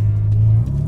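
Ferrari SF90's rear-mounted V8 accelerating on a wintry road, a loud close low growl with a rising tone that shifts briefly partway through, with no talk.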